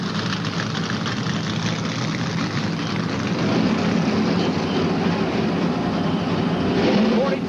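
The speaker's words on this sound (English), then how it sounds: "Cars have fired their engines" Thirty-two NASCAR Winston Cup stock cars fire their engines together at Charlotte Motor Speedway before the 1991 Mello Yello 500, giving a dense, steady, loud roar that swells slightly toward the end.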